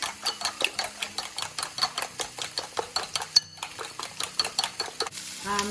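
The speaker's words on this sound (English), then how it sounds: "Just a good whisk." Eggs whisked briskly in a bowl for a masala mushroom omelette with wilted spinach, a steady train of close, sharp metallic taps and scrapes against the bowl's sides, fairly even in rhythm before stopping abruptly.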